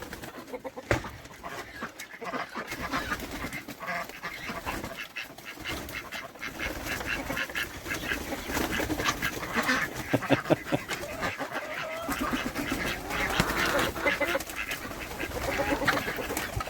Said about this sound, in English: we have a lot of young chickens that have never been up here before